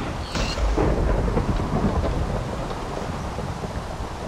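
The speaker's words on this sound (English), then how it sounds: "When it's raining, the storm shot will cause lightning." Thunder from a storm shot fired in the Minecraft Hexxit mod rumbles loudly and low. A brief crack marks the start, then a long rolling boom fades under a steady rain-like hiss.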